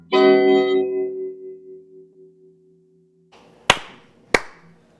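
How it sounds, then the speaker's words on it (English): Two sharp, isolated hand claps at a concert for Nashville, spaced about half a second apart and following a fading, sustained musical tone. "I'm clapping."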